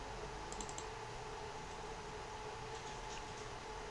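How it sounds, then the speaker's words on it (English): Keys clicking on a computer keyboard: two brief clusters of faint, light taps, one early and one near the end, barely above a steady background hum in a quiet room. "hit the delete button on your keyboard"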